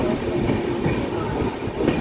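A Kriya Yoga Express passenger train slows into Mecheda station, giving a steady, close rumble of rolling wagons with faint wheel squeal and metallic rattle throughout, no voices.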